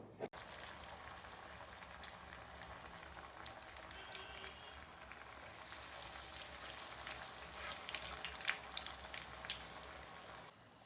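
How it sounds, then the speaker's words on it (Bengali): Vegetable chops fry in hot oil with a faint, steady bubbling crackle and scattered tiny pops, soft and alone, opening and closing with brief knocks. "এবার শুধু চপগুলো ভেজে নেবো"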